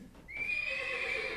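A horse gives a loud, clear whinny that rises and holds steady, a single drawn-out neigh close by with no talk over it.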